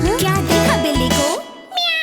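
A cat meows in a Hindi children's song, a clear drawn-out meow over bright music and singing, followed by a short pause and a thinner high tone.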